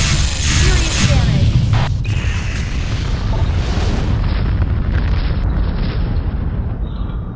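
A destroyed ship exploding in the space combat game FreeSpace Open, a loud, dense rumbling blast that fills the whole span and slowly thins out toward the end.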